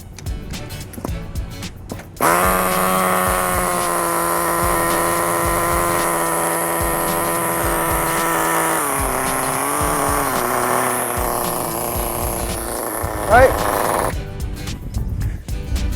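A nitro RC car engine with a glow igniter fires up after priming and runs steadily at a loud, high-pitched buzz for about twelve seconds, holding a rich, slightly wavering idle before a brief rev near the end.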